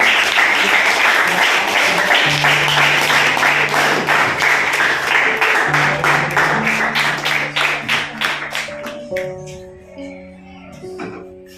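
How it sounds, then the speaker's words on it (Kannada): A classroom of tenth-grade students applauds the winning quiz team, a dense burst of clapping from many hands that gradually thins into scattered individual claps and dies away. "ಜೋರಾಗಿ ಚಪ್ಪಾಳೆ ಬರ್ರಿ"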